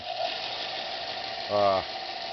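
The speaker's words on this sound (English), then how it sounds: "Flip sander on." A homemade belt sander's electric motor whines steadily at close range, with a brief louder harmonic surge partway through.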